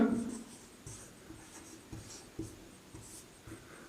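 Chalk or marker strokes on a board during a Hindi physics class on the laws of reflection, with soft, evenly spaced taps and scratches at a steady rhythm, fairly faint and close, with no voice.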